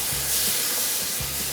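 Ginger and garlic sizzle in hot oil in a pan with onions, a steady, close, loud hiss with faint low bubbling underneath, no voices.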